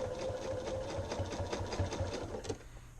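Home sewing machine stitching a narrow 1/8-inch pocket seam on Simplicity 2481 pants, a steady close whirring hum with rapid needle rhythm that runs continuously and stops abruptly near the end.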